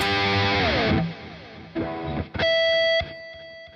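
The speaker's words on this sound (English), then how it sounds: "Digital delay." Distorted electric guitar notes and slides through an iPad guitar rack app's digital delay, each phrase trailing off in repeating echoes before a sustained ringing chord.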